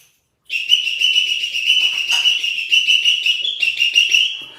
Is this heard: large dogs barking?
no